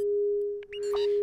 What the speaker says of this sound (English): This is a sine wave, and with no detune, it's not the biggest sound in the world.